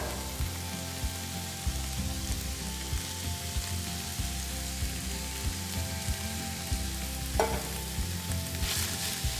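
Chopped onion sizzles steadily in olive oil in a pan, with a continuous close crackle and occasional stirring scrapes throughout.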